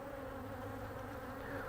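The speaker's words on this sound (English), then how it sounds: "there's a lot of bees in the air that got riled up from these inspections" Honeybees buzz in the air around a hive disturbed during a fall inspection, with robbing bees about. The steady, continuous drone of many wings holds close and constant throughout, with no voices.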